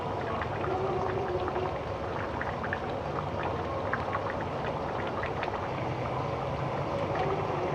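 A steady bubbling simmer of tilapia fish curry in a pot fills the whole stretch, a dense, even wash of boiling liquid with small pops throughout and no voices.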